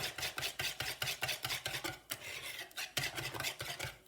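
A balloon whisk beats Yorkshire pudding batter in a bowl, a fast rhythmic scraping and slapping in quick regular strokes with a short pause midway, close and with no talk.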